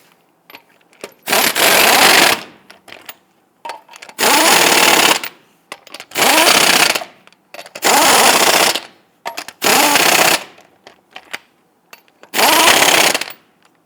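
An impact gun snugs lug nuts onto a Toyota Tundra wheel in six loud, separate bursts of rattling hammering, each lasting about a second with short quiet gaps between them.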